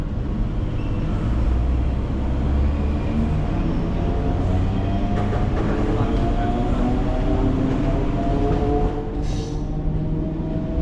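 A Chennai suburban elevated train rolls between stations with a continuous close rumble and rattle of wheels and carriages, plus faint squeals, heard from on board.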